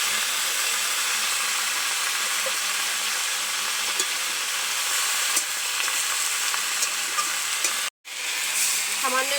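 Vegetables frying with spices in a pan, a dense continuous sizzle with occasional stirring scrapes, cut by a brief gap of silence near the end before the sizzle resumes.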